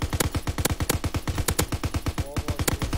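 Machine-gun fire rattles in a World War II shooter game, a fast, steady train of loud automatic shots with an even rhythm, close and continuous for the whole stretch, no voices.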